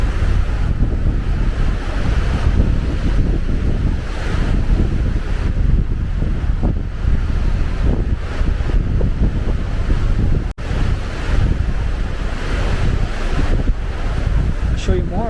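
Strong, constant gusts at Pali Lookout on Oahu roar and buffet the microphone throughout, loud and close, with no pauses in the rushing noise.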